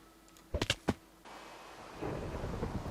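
Thunderstorm in the Minecraft video game: a few sharp cracking thunder hits in quick succession early on, then a steady wash of heavy rain that swells and stays loud to the end.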